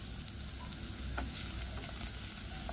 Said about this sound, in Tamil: நல்லா பொன்னிறமாக வதங்கி வரட்டும், அப்போ தான் நல்ல வாசமாக இருக்கும்